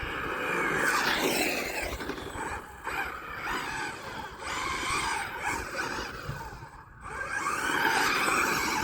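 Maverick Quantum RFlux 1/8 RC car with a slightly bigger pinion spinning its tires, a steady whining electric-motor buzz with tire scrub that surges, dips around the middle, then swells again near the end.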